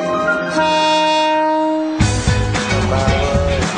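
A train in Thailand: sustained, horn-like harmonic tones for about two seconds, then a denser rhythmic clatter with recurring beats. The sound stays fairly loud throughout, and no voices are heard.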